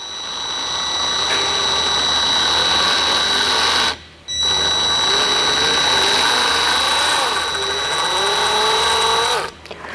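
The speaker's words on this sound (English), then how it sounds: "Just switch the drill to reverse and again slowly pull it out" A power drill runs in reverse, backing a thread tap out of plastic: a steady high-pitched whine, with a brief stop partway through and another cut at the end, and no one talking.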